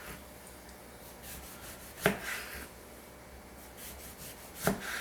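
Knife cutting an orange into quarter-inch slices, two crisp chops against a board with a quiet pause between them, close and otherwise near silent.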